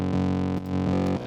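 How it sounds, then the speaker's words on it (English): A distorted, buzzy synth saw bass with no wavetable layer drones in thick sustained notes. It has brief dips in level between a few repeated hits, and no other sound plays over it. "Without it, the saw bass sounds like this."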